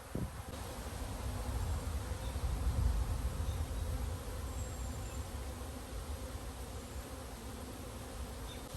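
Honeybees pour out of an opened, honey-bound hive, a dense, continuous low buzzing swarm close by, fairly quiet overall with no talk over it.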